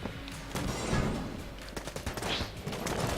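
Machine pistol gunfire in a combat video game: rapid bursts and scattered shots crackle close and loud over a dense, noisy battle background, with no talking.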